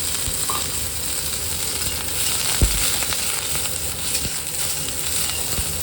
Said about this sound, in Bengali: এদিকে আমি ব্রকলিগুলো কেটে নিয়েছি এবার এগুলোকে একটুখানি ফ্রাই করে নেব